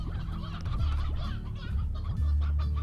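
Chickens in the video game Slime Rancher cluck and squawk repeatedly at close range, with low gobbling calls over a steady game background hum.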